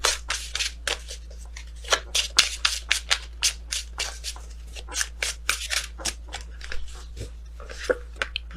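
Tarot cards shuffled by hand in rapid, uneven bursts of crisp riffling and slapping, close and fairly loud with a steady low hum beneath and no talking.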